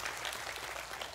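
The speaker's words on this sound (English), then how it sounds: "give them a round of applause" Brief burst of congregational applause at a church service, many hands clapping together in a soft, dense patter heard from a distance for about a second.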